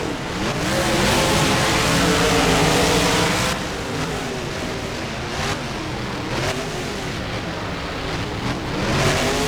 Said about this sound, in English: Light is green and off these two trucks go.